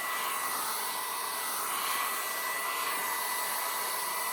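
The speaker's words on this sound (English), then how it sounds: "And then I'm going to use my hair dryer on low." A hair dryer set on low blows alcohol ink across a ceramic tile, a constant soft airy whir with no breaks, fairly quiet and heard alone.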